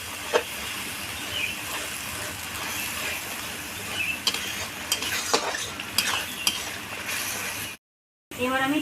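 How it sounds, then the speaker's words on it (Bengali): A spice paste of ground chilli, Kashmiri chilli and other powders with a little water fries in a pan, a soft steady sizzle broken by repeated scraping stirs of a spatula, with a brief silent gap near the end. "এবার আমি অল্প জল দিয়ে মশলাটাকে কষে নেব"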